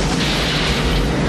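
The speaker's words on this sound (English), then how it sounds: "the big exploding science ball to go off, resulting in, of course, the place being blown sky high" Massive explosion from the Demolition Man film as a building is blown up, a loud, dense, sustained roar of blast and debris filling the whole stretch with no voices.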